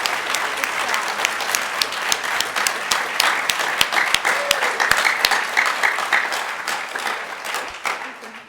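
Sustained applause from the audience at an elementary school graduation ceremony, a loud, dense wash of many hands clapping with a few sharp close claps standing out, holding steady throughout before easing slightly at the end.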